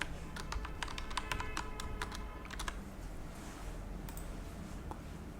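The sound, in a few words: typing on a computer keyboard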